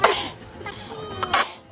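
At an outdoor picnic by the Han River in Seoul, a person gives a short, explosive sneeze at the start, followed by a few breathy throat noises and another brief burst near the end.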